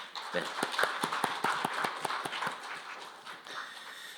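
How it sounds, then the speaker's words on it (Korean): Audience applause for a presenter at a parliamentary public hearing in a conference hall, a run of distinct, fairly sparse claps at moderate level that thins out toward the end. "차분하게 발표해 주신 우리 박주병 교수님께 박수 한번 보내십시다."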